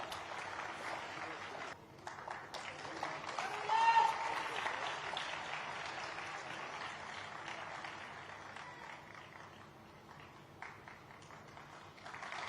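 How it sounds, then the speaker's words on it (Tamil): Fairly quiet audience applause at a ceremony welcoming a bishop on stage, with scattered clapping and a brief swell, mixed with murmuring voices in a hall. "பிஷப் டாக்டர் ஏ மித்துலேஷ் அவர்களை அன்போடு அழைக்கிறோம் உங்களின் கைத்தட்டலின் ஊடாக"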